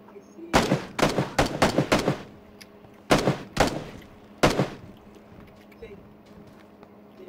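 An Uzi submachine gun fires in a video game: a loud, rapid burst of several shots up close, then a few shorter bursts and single shots after a pause.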